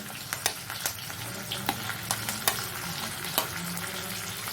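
Capsicum frying with ginger, garlic and salt in a pan, giving a steady sizzle broken by repeated sharp clicks and scrapes of a stirring spoon.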